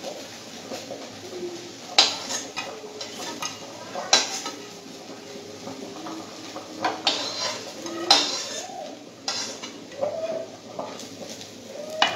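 Metal pots, pans and utensils clank and scrape in a home kitchen as cooked rice is taken off the stove, sharp clatters at irregular intervals over steady background bustle, with pigeons cooing nearby.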